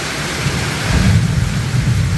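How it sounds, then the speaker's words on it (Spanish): Heavy downpour with thunder, a dense continuous roar of rain and a low rumbling swell near the middle, loud and close, with no voices. "Fuerte, fuerte se vino el agua."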